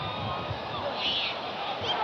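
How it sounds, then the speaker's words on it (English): Arena crowd at a 1987 Bulls vs Hawks basketball game in Atlanta voicing displeasure at an out-of-bounds call, a sustained roar of booing and shouting from many voices. "Out of bounds, it'll belong to Chicago. Crowd didn't like it."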